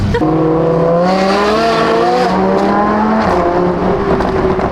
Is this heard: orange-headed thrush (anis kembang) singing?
no